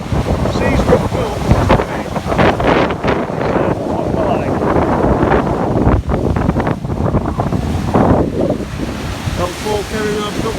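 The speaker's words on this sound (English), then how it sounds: "The sea's roughed up." Rough sea slaps and washes around a small fishing boat off North Wales while strong wind roars steadily close to the microphone, loud and continuous with surging swells.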